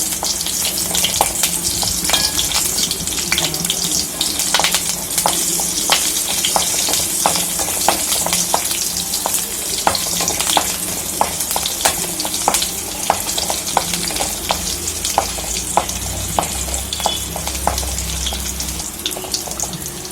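Small onions sizzle steadily in hot oil in a pan for mor kulambu, a loud continuous frying hiss dotted with sharp crackles and pops, alongside occasional stirring and a faint watery tap-like wash in the background.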